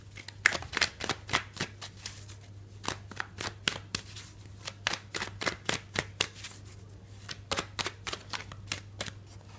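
Tarot cards being shuffled, a quick series of crisp riffling snaps and flutters in irregular bursts, close and fairly quiet, with no talking over them.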